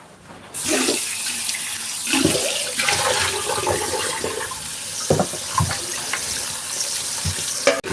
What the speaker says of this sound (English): let me just quickly wash off my hand again